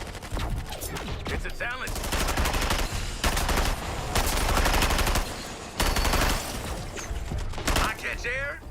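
Rapid gunfire bursts from Deadshot in the Suicide Squad video game, dense and loud, repeating in volleys throughout amid game effects, with a voice speaking briefly over it.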